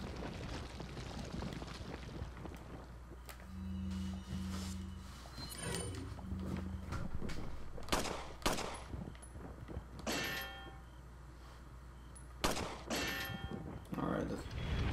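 Gunfire in Resident Evil 4 on PS4, at the Giant Gear Tower: several sharp, loud shots ring out at irregular intervals over a constant low mechanical hum and clanking, with no talking.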